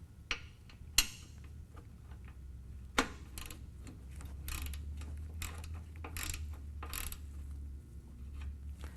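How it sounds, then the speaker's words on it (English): A ratchet with a 5/8 inch socket works loose the oil drain plug on a Harley-Davidson motorcycle, giving faint, sparse clicks and a few sharp metallic ticks over a quiet low hum. "Take your ratchet and your 5/8 inch socket and remove your drain plug"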